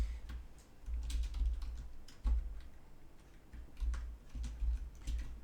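Fingers type on a computer keyboard close by. Quiet, irregular key clicks come in short clusters with a soft low thump now and then.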